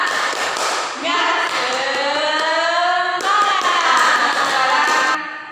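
Fifth-grade elementary pupils in a classroom do a rhythmic spirit clap, sharp hand strikes punctuating sustained, sliding chanted voices that carry loudly from start to finish.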